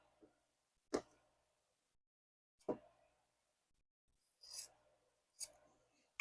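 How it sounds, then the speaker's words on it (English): Sharp snips of scissors trimming quilt fabric, four distinct cuts spaced a second or two apart in an otherwise quiet room. "I just take my scissors and trim."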